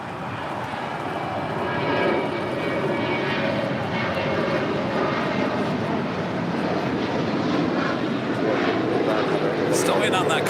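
Airliner engines spooling up for takeoff on runway 25 right at LAX, a loud, sustained broadband roar that holds steady and close throughout, with a faint high whine near the end.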